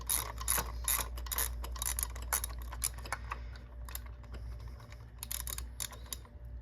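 A hand ratchet works the spark plugs out of a 2016 Kia Soul SX engine, with quick bursts of crisp, close clicking that repeat unevenly over a low steady hum.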